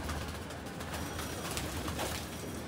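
Rooftop pigeons, a handful left in otherwise empty cages, coo softly and intermittently beneath a steady wash of background noise, with no talking.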